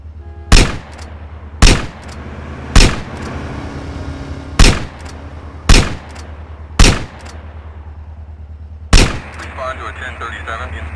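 Loud gunfire in the PS2 game GTA San Andreas, seven heavy booming shots at irregular intervals about a second apart, each with a short tail, over a low engine rumble, with game noise rising near the end.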